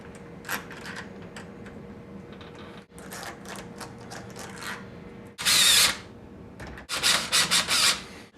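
A power drill drives screws into a deadbolt lock plate during a home door lock install: two loud buzzing bursts, one short and one longer and stuttering, over quiet room tone with faint handling clicks.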